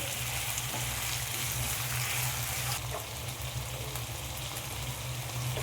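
Chicken sizzles steadily in hot oil with ginger-garlic paste, a constant bright crackle and hiss with faint stirring scrapes underneath, loud and close throughout with no voice.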